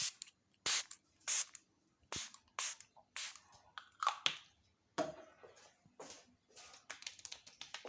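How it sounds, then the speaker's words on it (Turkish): Several short, sharp hissing bursts of a facial mist spray come close to the listener during a skin care treatment, irregularly spaced with quiet gaps between them. "Şimdi canlandırıcı spreyimizi sıkıyoruz."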